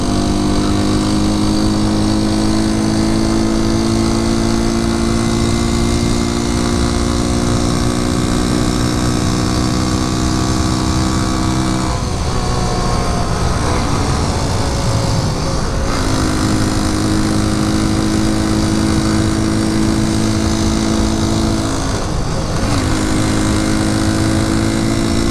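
A 1973 Honda C90 small-capacity motorcycle engine drones steadily while riding, a loud continuous hum with two brief drops around gear changes before the revs climb again, wind noise throughout and no talking.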